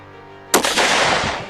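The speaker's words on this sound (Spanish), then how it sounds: "El disparo fue certero y atravesó de lado a lado al hombre" A single loud gunshot cracks out sharply after a brief quiet moment, followed by a long rumbling echo that slowly fades.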